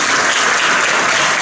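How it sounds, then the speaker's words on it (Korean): A seated audience at a Junior Chamber training lecture breaks into loud, dense applause. The continuous wash of many hands clapping fills the short moment, with no speech over it. "한 번만 더 박수 좀 부탁드립니다."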